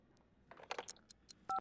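Phone dialing in The Sims 2 video game: a few faint, quick keypad tones near the end, following soft game ambience and small clicks.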